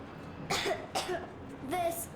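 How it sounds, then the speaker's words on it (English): Three short bursts of a child coughing in the video game Metro Exodus, spaced apart, fairly close and at moderate volume, with no speech around them. "I have this cough."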